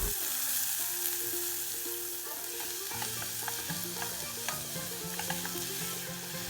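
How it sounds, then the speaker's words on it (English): Chopped onion sautéing in ghee with black pepper powder sizzles steadily in a pan, with a spoon stirring through it up close while soft music plays underneath. "Then add the chopped onion and saute very well."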